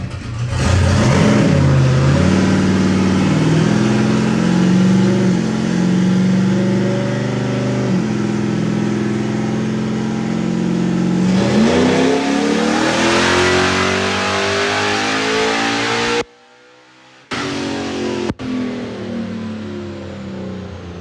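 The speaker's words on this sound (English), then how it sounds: "So we just got done running the car on gas." Boosted car engine on a dyno running on gasoline at 5 psi of boost, a loud sustained roar climbing through repeated rising pulls, with a brief cutout near the end before the engine resumes.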